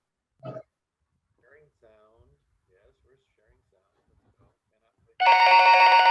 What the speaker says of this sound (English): Here's our bell.